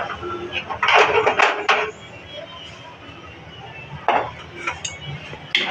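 A metal pot of hot water clanks and scrapes against a stovetop as it is lifted, with a few sharp knocks, then quieter kitchen clatter a few seconds later.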